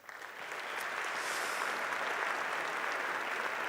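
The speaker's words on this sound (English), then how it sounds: "Big round of applause for all of them." A morning audience at a mayor's breakfast at Rogers Centre bursts into applause, building quickly to steady, dense clapping that fills the room without pause.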